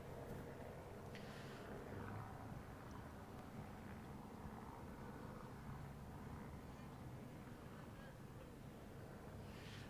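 A steady, rumbling police helicopter drone overhead above a protest in downtown Phoenix, constant throughout, with wind buffeting and faint crowd noise in the background.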